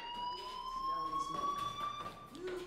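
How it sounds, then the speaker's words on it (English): Fire alarm in the Life is Strange video game, a steady electronic tone that runs through most of the passage at moderate level with a voice talking over it. "do you hear that fire alarm? That means you should be outside."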